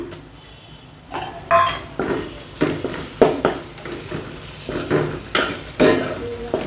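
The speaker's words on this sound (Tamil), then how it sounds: "கருவாடு நல்லா எண்ணெயிலே ஃப்ரை ஆகணும்" Cleaned dry fish fries in oil in a pan for a thokku, a loud close sizzle broken by repeated scraping and clanking of a spatula stirring against the pan in an irregular rhythm, no talking.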